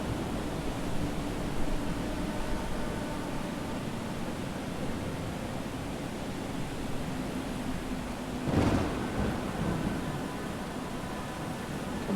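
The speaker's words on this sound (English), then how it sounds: "the gales returned with force, rattling our ship to its bones, howling through the vents" Gale-force storm wind battering a ship far at sea, a steady broad roaring rush with one brief louder gust or thump near the end, no voices.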